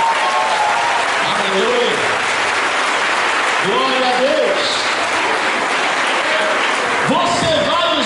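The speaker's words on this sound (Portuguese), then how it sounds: "Aplauda o Senhor." A congregation at a church conference claps for a few seconds in a steady wash of applause, while someone speaks and calls out praise over it.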